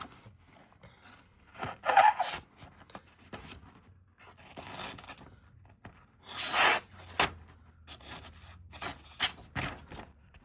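A Ganzo G627-GR budget folding knife slices and tears through a sheet of paper, giving a few short dry rasping scrapes in separate bursts, close and fairly quiet.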